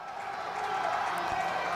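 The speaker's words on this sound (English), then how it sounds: "The crowd to their feet." A football crowd at a San Bernardino Valley College vs Southwestern College men's game rises in a broad, distant roar of cheering, fairly faint and heard beneath an announcer's ongoing commentary.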